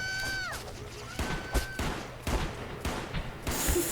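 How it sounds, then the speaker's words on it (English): Gunfire in the video game Space Station 14: a handful of separate sharp shots spaced irregularly across the scene, moderately loud, with electronic tones and a voice now and then. "people just shoot each other"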